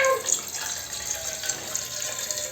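Boiled tamarind, tomato, turmeric and salt water being poured out, a steady splashing stream of liquid running for a few seconds, close and continuous with no talk.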